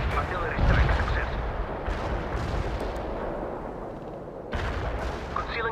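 Artillery strike in the real-time strategy game World in Conflict, a sustained rumbling barrage of heavy booms and blasts, loud and continuous, with radio-style voices talking over it.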